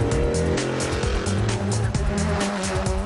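A 1966 Lola Indianapolis race car drives the hill at the Goodwood Festival of Speed, its engine roaring loud and close with shifting revs and gear changes, plus a brief tire squeal.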